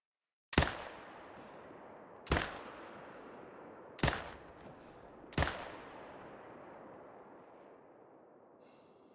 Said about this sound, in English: We will go ahead and take a couple of shots here